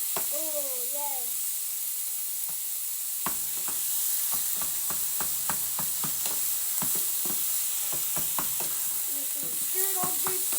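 Ground turkey for taco crescent rounds sizzles steadily in a frying pan as it is stirred and broken up, with a constant hiss under sharp, repeated scraping clicks of the utensil against the pan.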